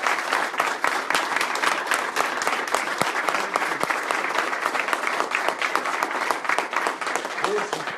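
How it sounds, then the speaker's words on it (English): A crowd applauds steadily, a dense sustained patter of many hands clapping at moderate distance, continuing throughout. "Let's give them a big round of applause."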